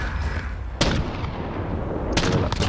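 Gunfire in a Colombian team tournament match of a shooter video game: two sharp, loud shots about a second and a half apart, followed by a quick burst of further shots, over a steady rumbling game background.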